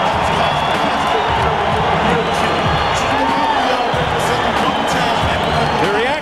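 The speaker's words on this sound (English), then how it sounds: "The reaction is mixed, but mostly applause and cheering." Boxing arena crowd at Holyfield versus Tyson II in 1997 cheering and applauding as Mike Tyson enters, a dense, loud roar of cheers, whoops and clapping with a commentator talking over the noise.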